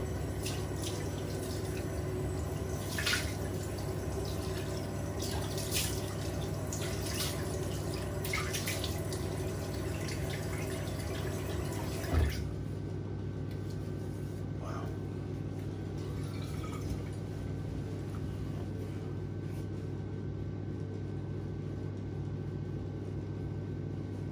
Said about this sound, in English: So rinse the face and we'll get into the toast with this freezing cold water.